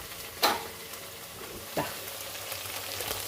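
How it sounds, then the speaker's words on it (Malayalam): Egg curry with coconut simmers in a pan under a low steady sizzle, broken by two sharp spoon knocks against the pan as it is stirred, close by. "ഒന്ന് ഇളക്കി നോക്കാം വെന്തിട്ടുണ്ടോ എന്ന് നോക്കാം"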